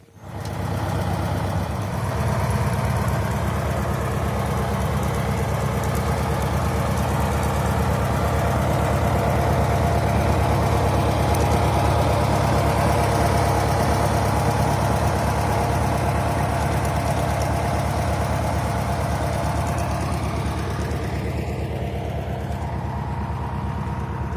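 A tractor engine runs continuously while rows are marked for garlic planting, a loud, steady low rumble that starts abruptly and holds evenly throughout without talk.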